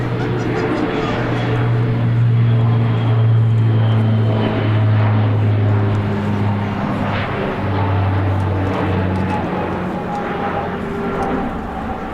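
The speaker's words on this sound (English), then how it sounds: "Watch as it performs a steep spiral climb. We call it Viper climb, highlighting the formidable power of its 4700 HP Rolls-Royce turboprop." An Italian Air Force C-27J Spartan, powered by 4700 HP Rolls-Royce turboprops, roars loud and steady through a steep spiral climb at an airshow, its deep propeller drone wavering slightly in pitch throughout.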